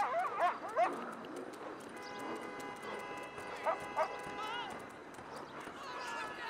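A dog barks a few times in GTA Online, short sharp barks early on mixed with game noise and hoof-like clatter, while a person talks over much of it.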